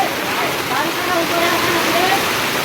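Heavy monsoon rain in a Konkan village, a loud dense roar of water pouring down without pause, close and steady throughout.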